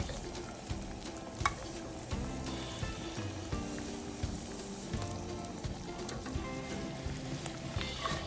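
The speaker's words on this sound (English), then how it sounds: "I'm adding the onions, the shallots, the ginger" Onions, shallots and ginger sizzling in a big pot, giving a steady crackling fry with a few stirring clinks, close and moderately quiet, with no voices.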